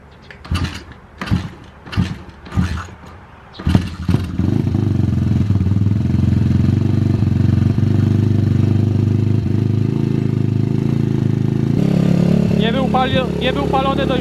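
A few sharp pulls and sputters, then a cold nitro RC car engine, unrun for a long time, catches and runs steadily with a buzzing, rattling idle; a voice speaks near the end.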